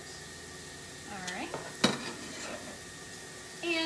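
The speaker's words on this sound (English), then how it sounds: "Always wanna hear that sizzle." Barbecue food sizzles quietly on a Pampered Chef Deluxe Grill and Griddle, with a soft clatter of a utensil and a brief spoken word partway through.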